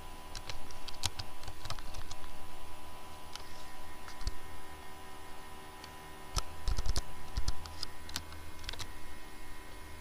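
Someone typing an SQL insert statement on a computer keyboard, quick irregular bursts of crisp key clicks with short pauses, close and clear over a steady electrical hum, no talking.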